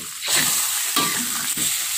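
Salted fish is stirred in a sizzling frying pan, with steady loud frying hiss and a few scraping strokes of the utensil, close up and without talk.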